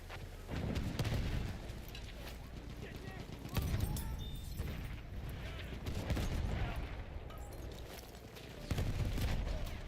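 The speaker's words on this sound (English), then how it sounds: "Machine gun." Machine gun fire in the Battlefield 1 video game, in dense rattling bursts that repeat through the clip, mixed with booms and battle noise while voices talk underneath.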